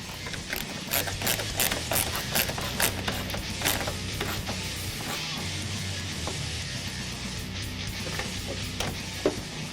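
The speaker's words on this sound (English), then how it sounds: "now we can go back through and tighten them up" A ratchet wrench snugs bolts on the rear spoiler of a 2015-2017 Mustang Fastback, giving rapid, close clicking in short repeated bursts over a faint background.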